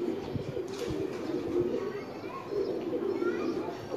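Pigeons raised by a pigeon fancier coo softly in a loft, low repeated coos layered over steady ambient bird noise, with people talking in the background.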